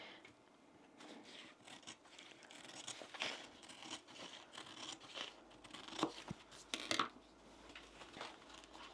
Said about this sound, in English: I'm going to trim it along the bottom, make sure you don't catch underneath.